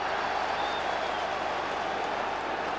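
A big, noisy home crowd at the 1997 Rangers vs Hibernian football match makes a steady, dense wash of distant roaring and clapping that stays at an even level throughout, with no single voice standing out.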